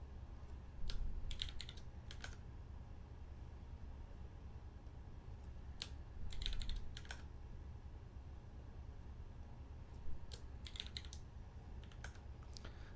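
A computer keyboard is tapped in short bursts of a few keystrokes each, about four clusters spread over a steady low fan hum, quiet and close with no talking.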